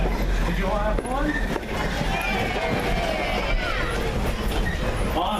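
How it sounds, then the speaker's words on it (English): A Thomas the Tank Engine excursion train rumbles into East Strasburg Station with steady rolling noise and faint wheel squeal, while people talk over it nearby. "Thomas is now arriving back at East Strasburg Station."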